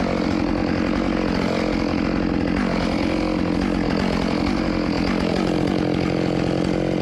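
Chainsaw running steadily at full throttle while cutting up a felled ash tree, a loud, continuous high-pitched whine with a dense buzz, close by and without voices.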